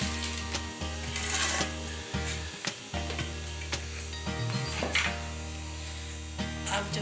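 An electric grinder jar pulverises dried turmeric into powder, with a close, steady motor drone broken by brief dips and gritty rattling pulses.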